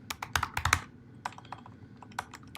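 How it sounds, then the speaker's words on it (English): Fingers type on a computer keyboard in quick bursts of clicking keystrokes, with a short pause before a sparser run of taps, heard close and alone. "So let's just start typing."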